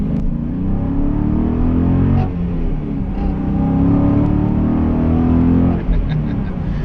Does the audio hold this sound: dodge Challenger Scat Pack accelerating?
yes